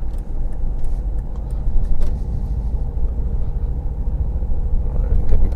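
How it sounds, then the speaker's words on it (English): Car driving on a road in a 40 zone, engine rumbling steadily and building slightly as it pulls past a slower car, with a continuous low road roar and cabin noise throughout. "I'm getting past this car that was doing 28 because it's a 40 zone"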